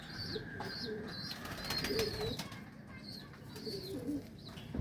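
Pigeons coo softly in a loft, repeated low throaty calls with faint higher chirps and occasional wing rustles, fairly quiet and without voices.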